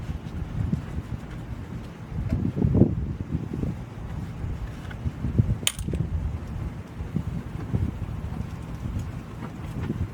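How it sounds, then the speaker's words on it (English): Outdoors, a breeze buffets the microphone in low, uneven gusts, rumbling and swelling irregularly, with a few faint knocks and a brief sharp clink partway through; nobody speaks. "A little breezy out."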